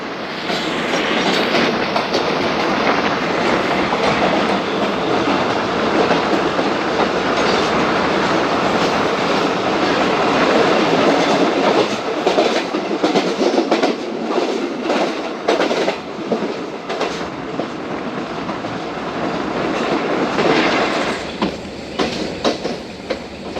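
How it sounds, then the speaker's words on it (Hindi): The 15Up Karachi Express runs along the rails after leaving Raiwind Junction, a loud, steady rumble with rhythmic clickety-clack of wheels over rail joints and a faint squeal, carrying on without a break and with no voices. "एक 1:45 पर दोस्तों ट्रेन रवाना हो रही है हमारी रायवेंड जंक्शन से"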